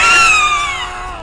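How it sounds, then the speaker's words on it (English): A video game character from AI: The Somnium Files lets out one loud, sustained scream that slowly drops in pitch, heard alone. "I'll scream boldly."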